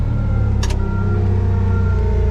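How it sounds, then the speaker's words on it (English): A Peterbilt truck engine runs loud and close with a steady low rumble as the truck is moved a short way, with a faint brief click near the start and no voices. "So we need to move this Peterbilt a little bit"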